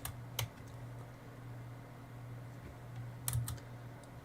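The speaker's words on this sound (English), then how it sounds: "Please stop typing." Keys on a computer keyboard clatter in a couple of short bursts of clicks, separated by a quiet stretch with a low steady electrical hum in the background.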